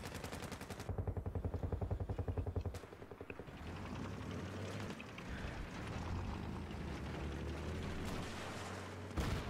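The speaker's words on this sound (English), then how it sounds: "I think someone just shot at me." Rapid automatic gunfire rattles in sustained bursts during a Battlefield 3 firefight, loud and close at first, then continuing under a dense wash of battlefield noise and rumble.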